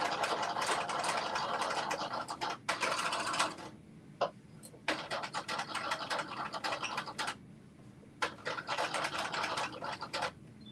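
Home sewing machine stitching fabric in bursts of rapid mechanical whirring and chattering, stopping and starting several times with short quiet gaps and small clicks in between.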